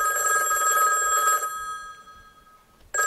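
A telephone bell rings nearby, one loud sustained ring that stops and fades, then a second ring starts right at the end, with no voices.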